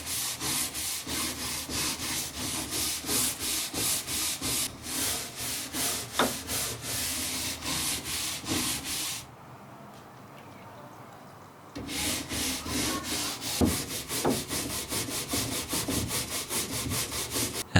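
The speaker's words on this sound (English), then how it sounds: "I'll begin with a regular scrubbing brush before trying the drill brushes later on." Steady back-and-forth scrubbing of teak furniture with a regular scrubbing brush, a rhythmic rasping of bristles on wood that runs continuously, pauses briefly near the middle, then resumes at the same pace.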